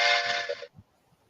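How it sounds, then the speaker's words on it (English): A toy train whistle gives one bright, breathy blast lasting just over half a second, then cuts off, leaving only faint rustling. "You blow this whistle and the train comes."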